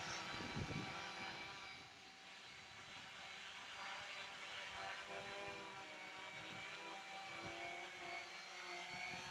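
Small Ardupilot quadcopter motors run at a steady, faint whine with a thin propeller buzz, heard from a distance over low rumbling background noise for several seconds.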